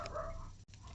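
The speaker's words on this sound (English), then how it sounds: "Dogs are going off for some reason." Dogs bark in the distance, faint and brief, behind a quiet indoor background.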